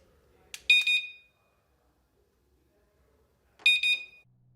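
A Fortress Guardian standalone security system unit gives two short bursts of high electronic beeping about three seconds apart. It is close and clear, with near silence between the bursts.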